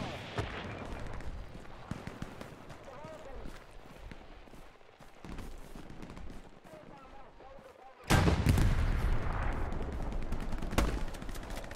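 Gunfire and artillery in the video game Hell Let Loose crack and thump as scattered shots and distant booms, with a sudden loud heavy blast late on followed by continued firing, and voices talking throughout.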